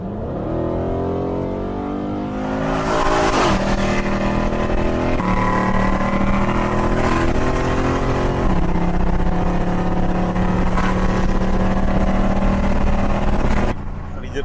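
A car in S plus sport mode accelerates hard through traffic to about 180, its engine revving up loud and close in rising sweeps broken by gear shifts, with people talking over it.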